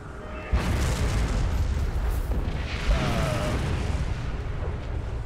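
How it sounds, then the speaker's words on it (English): A starship explodes off the forward bow with a sudden deep boom that swells into a sustained, rumbling roar, loud and broad, fading slowly without any voices. "The explosion off the forward bow, sir."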